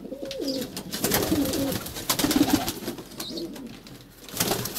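A pigeon being handled coos close by in several low, rolling phrases, with soft rustling and handling noise around it.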